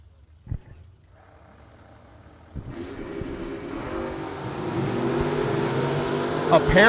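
Dragsters at a drag strip racing event: engines build from a distant rumble into a loud, rising roar as the cars launch and race down the track, with a voice over the early part.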